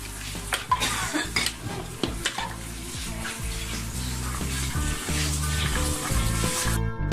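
Beef nihari being stirred in a pot, a spoon clattering and scraping against the metal in rhythmic strokes over a low sizzle, close and fairly loud.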